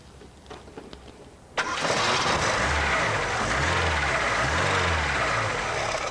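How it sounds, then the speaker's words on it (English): A car engine cranks and catches after a quiet moment, then settles into a steady, loud idle with a rhythmic low throb, heard close up in the engine compartment. "so I just asked my assistant to start the car"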